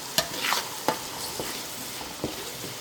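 Masala paste of ginger, garlic and onion frying in oil for a village-style fish curry, a steady soft sizzle broken by a few sharp scrapes of a spoon stirring the pan, close by with no talk.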